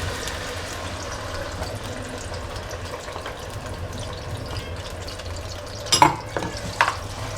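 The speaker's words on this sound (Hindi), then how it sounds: "और प्याज को हम फ्राई करेंगे" Onion paste sizzles steadily as it fries and is stirred in a pan, a soft continuous crackle with a few louder scraping stirs near the end.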